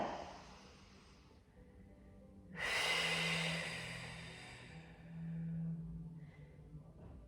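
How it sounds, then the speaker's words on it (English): Slow, deep breaths during a gentle Pilates breathing exercise for the core, a close, fairly loud long exhale that swells and fades, then another softer breath, with no talking. "Now use your out breath to tighten your tummy muscles. So just a few breaths here."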